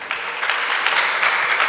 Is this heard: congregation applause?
yes